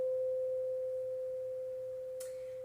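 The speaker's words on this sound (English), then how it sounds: "With the crystal bowls, you're going to push a little bit more until you get to that sound." A pure, steady ringing tone from a crystal singing bowl, sustained and slowly fading, with a faint brief noise near the end.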